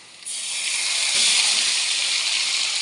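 Onion paste hits hot oil for a katla fish kalia and bursts into a loud, steady broadband sizzle that starts abruptly and holds unbroken, close and with no talking.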